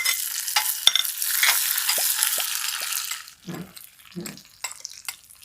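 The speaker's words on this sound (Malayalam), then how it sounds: "ഇത് അണ്ടിപ്പരിപ്പ് മൂക്കണു. അപ്പോൾ അതിലേക്ക് നമുക്ക് ഉണക്കമുന്തിരി കൂടി ഇടുന്നു കേട്ടോ." Cashews fry in hot oil or ghee in a pan for Kerala adapradhaman payasam, then raisins are added. A steady bright sizzle with stirring clicks fades out partway, leaving a few scrapes and taps.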